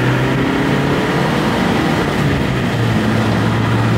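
A used car droning at a low steady hum from inside the cabin while driving, a dense continuous rumble with road noise, loud and unbroken.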